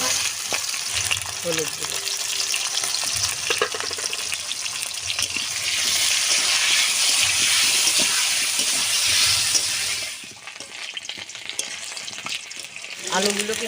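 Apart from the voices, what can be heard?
potatoes frying in a pan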